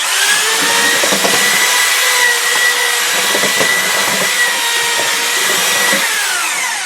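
A Milwaukee power drill whirs steadily and loudly for the whole stretch, with a churning, grinding texture as it mixes a thick scrap-based biomass briquette material.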